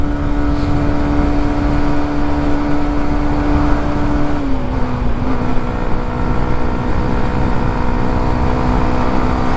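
A Hero Xtreme 125 motorcycle held at full throttle in fifth gear during a top-speed run, its engine droning loud and steady with a sustained tone that dips briefly midway, plus rushing road and wind noise throughout.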